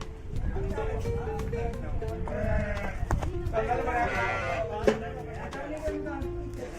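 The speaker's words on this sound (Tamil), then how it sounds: "இது ஒரு பட்டி பக்கத்தில் செம்மறி ஆடு வெள்ளாடு எல்லாமே" Sheep and goats bleat in a livestock pen at a Chennai goat market, their cries rising over a steady crowd murmur while someone talks nearby.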